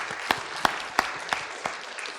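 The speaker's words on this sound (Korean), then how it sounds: "우리 박수하겠습니다" A Korean church congregation at a Sunday service claps together in a slow, even rhythm, five or six crisp unison beats in a room that is otherwise quiet.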